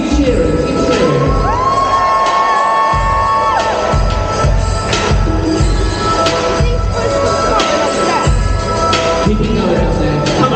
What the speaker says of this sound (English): Keep cheering, keep cheering.